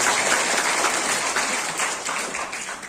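Steady applause from a sizable audience at a meeting with protesting honorary teachers fills the whole stretch, dense and even, fading slightly toward the end.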